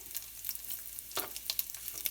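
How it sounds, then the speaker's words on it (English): Bacon sizzling and crackling in a hot pan over low heat, frying until crispy, a steady hiss with sharp pops scattered throughout, close by. "I'm finishing up frying up my bacon"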